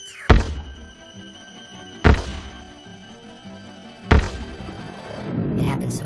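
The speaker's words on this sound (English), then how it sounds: "I remember that sound. The thud of the first bullet." Three sharp, heavy thunks land about two seconds apart as bullets strike a person, each a sudden loud impact with a brief ringing tail, followed by a low rumbling swell.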